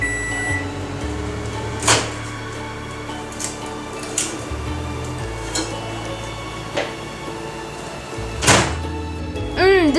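A kitchen oven finishing a batch of eggless chocolate crinkle-top brownies, giving a steady low hum with a few sharp beeps and clicks, including a final chime near the end, with no talking.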